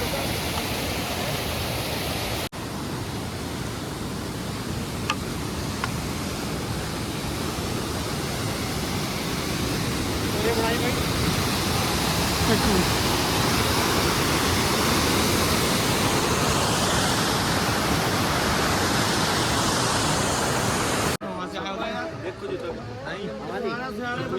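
Rushing water from a waterfall beside the snowy Hemkund Sahib trail, a steady loud roar filling most of the clip before it cuts out near the end.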